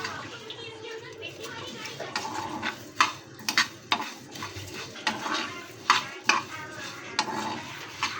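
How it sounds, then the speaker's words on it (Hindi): Whole cumin seeds being roasted in a pan in a village-style kitchen, a spoon scraping and clinking against the metal in irregular strokes with a light sizzle, while someone talks throughout. "और ये ज़ीरा भूनूंगा।"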